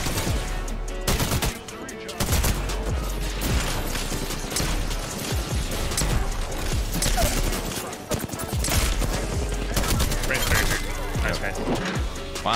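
Dense gunfire crackles through a busy Apex Legends match, rapid bursts and impacts layered with game noise while a player talks over the action.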